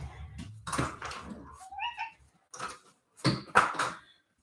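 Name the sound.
cat meowing as it is let in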